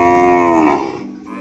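A PO (Ongole crossbreed) cow lets out one long, loud, close moo that holds steady before fading at the end.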